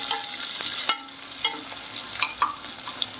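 Sliced onions sauté in a pan for tomato rice, with a soft, steady sizzle and repeated scraping stirs from a spoon.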